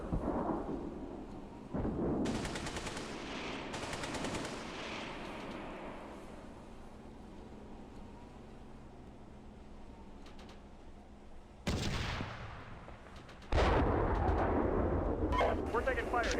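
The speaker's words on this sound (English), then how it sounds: "We're taking in fire here." Tank combat in a video game with a T-72, heavy booming artillery blasts and rumbling gunfire rolling out in bursts, with loud sharp impacts at intervals and a voice talking over the battle.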